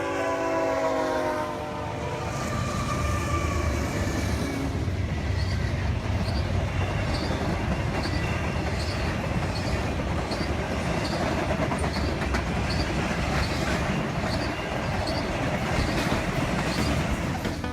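A BNSF freight train rolls past on a double-track main line, its horn sounding at the start before a steady, loud roar of wagons with rhythmic clicking and squeal continues throughout.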